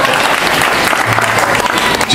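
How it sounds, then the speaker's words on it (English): Applause from children and families at a kids' culture camp festival, a dense steady wash of many hands clapping that fills the whole moment, with voices mixed in underneath. "Clap your hands for them"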